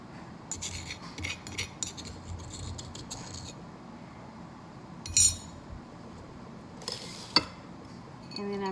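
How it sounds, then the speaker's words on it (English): A spoon scrapes and clinks against a container while scooping ground sassafras leaf filet powder, with soft rubbing and a few sharper taps up close. No one speaks. "And then I just take what I've ground up, get it out with this spoon."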